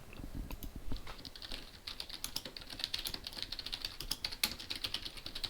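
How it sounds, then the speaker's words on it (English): Steady keyboard typing with irregular rapid clicks throughout, fairly close and alone, no voices over it. "that's why I'm typing things out here"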